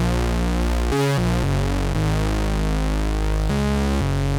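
A compressed retro synthwave bass synth built in Phase Plant holds dense, buzzy sustained notes with a brief gap and a few pitch changes, loud and saturated throughout, with no voices.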